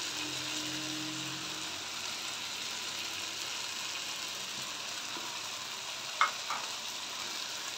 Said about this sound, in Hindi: जो टमाटर का पानी है उसी के अंदर इसको अच्छे से फ्राई करेंगे।